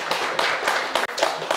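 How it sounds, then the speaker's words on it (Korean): Short bursts of clapping from a church congregation at a revival service, a few uneven rounds over under two seconds, moderately close. "우리 하나님께 영광의 박수"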